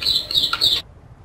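Small birds chirp in a bright, continuous twittering burst in the background ambience of the game Tom Clancy's The Division, cutting off abruptly after under a second and leaving near silence.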